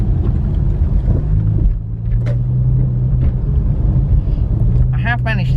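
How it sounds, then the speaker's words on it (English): A Porsche 996 engine drones steadily with a low rumble from inside a car driving in a Porsche convoy, loud and continuous. "Joined by another Porsche, a 996 behind as well."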